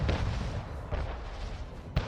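Cannon fire in the city-building game Anno 1800 during a naval fleet battle with pirates: a few quiet, distant booming shots, one at the start and a sharper one at the end, over a low rumbling background.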